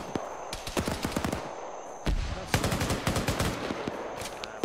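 Rapid bursts of automatic gunfire crackle repeatedly, loud and sharp, in an alternate-history military video game firefight during an aircraft raid, with steady background noise between volleys.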